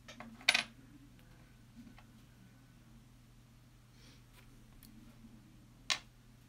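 A 1979 Hong Kong one-dollar coin is handled, giving two brief metallic clinks several seconds apart against a quiet background with a low steady hum.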